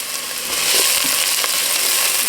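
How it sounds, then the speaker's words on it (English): Onion frying in a hot pan for soup, a steady broadband sizzle with faint crackles and pops throughout. "we're going to go ahead and throw in our onion."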